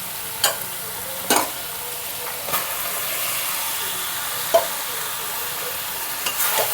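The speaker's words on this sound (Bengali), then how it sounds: "বাঁধাকপিগুলো দিয়ে দেবো।" Cabbage is stirred into a pan for a fish-head cabbage curry, an even hissing sizzle broken by several sharp scraping strokes of a spatula at irregular intervals.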